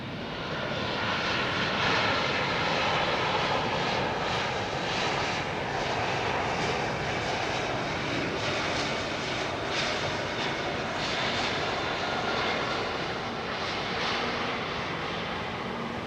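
A steady, loud roar of a fixed-wing aircraft engine holds for the full length as a plane comes in to land on runway 27R at London Heathrow, with no talk over it.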